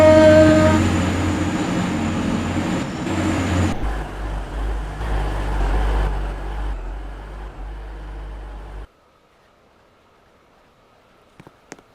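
A train at a station in a railway video game rumbles and hums loudly, its engine drone shifting as it moves, then fades away, leaving near silence with a couple of faint clicks at the end.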